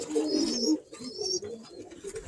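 Birmingham Roller pigeons coo in a loft, a soft run of low throaty coos that keeps going under faint high chirps, fairly close and steady.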